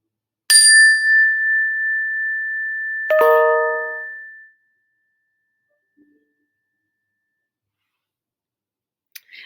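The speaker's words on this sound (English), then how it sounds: "Focus in on the sound of the chimes" Two clear chime strikes ring out in a quiet room, the first a single bright tone and the second a lower, richer chord, each sustaining and fading into silence.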